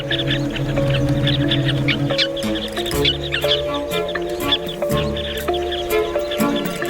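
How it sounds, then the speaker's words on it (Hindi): Carmine bee-eaters in a commotion at their nesting burrows dug into a riverbank, a busy chorus of overlapping chirps and calls, loud and close, layered with some tonal notes. "वहीं थोड़ी दूर कुछ पक्षियों में हड़कंप मच गई है"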